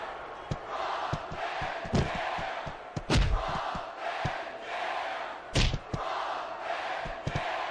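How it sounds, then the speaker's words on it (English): Wrestling crowd in WWE SmackDown vs Raw 2006 roars continuously while heavy thuds and slams from ring impacts punctuate it, two especially loud crashes standing out midway. "I can't remember the last time I seen a crowd so pumped up."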